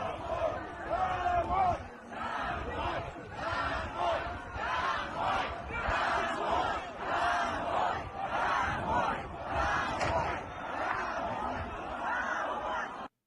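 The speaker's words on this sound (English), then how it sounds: "And you see now the crowd's getting a little riled." An angry protest crowd shouts and yells together in a sustained roar, loud and continuous throughout, with overlapping voices rising and falling.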